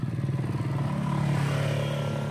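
A Mitsubishi Colt truck's diesel engine idles steadily and close by, a low rumbling clatter with a constant even drone and no talking.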